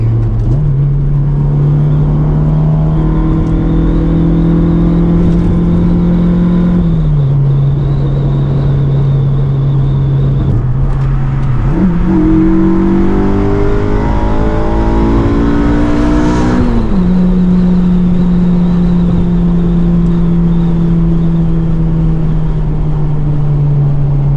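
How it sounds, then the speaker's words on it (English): Road traffic passing close by, a loud continuous engine drone that shifts pitch as vehicles accelerate and pass, with a swell of passing noise midway and no talking. "lots of traffic"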